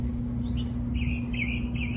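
Small birds chirp in a vegetable garden among cucumber plants, a few thin, fairly faint calls repeating over a steady low hum, with no talking.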